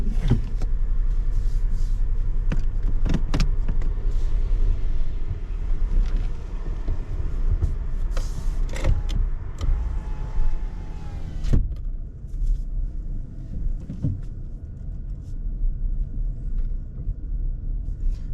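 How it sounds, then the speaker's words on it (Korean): A rental car driving on roads in Miyazaki, Japan, with a loud steady low engine and road rumble, buffeting wind noise and occasional clicks and thumps from inside the cabin. "자, 오래간만에 일본 운전."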